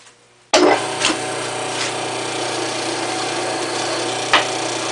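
A file grinds against aluminum turning on a wood lathe while making a mandrel: after a brief quiet start, a loud, steady, close metallic rasp kicks in and holds with the machine's hum, with a couple of sharper scrapes.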